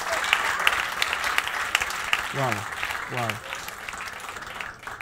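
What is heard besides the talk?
audience applause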